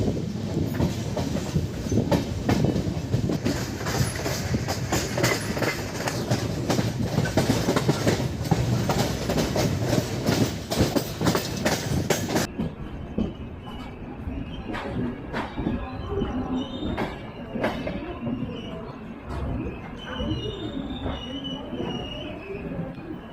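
The 12138 Punjab Mail passenger train rolls on rails with a steady, loud rumble of wheels and rhythmic clatter over joints, the sound turning thinner and more open partway through, with scattered metallic knocks and no voices.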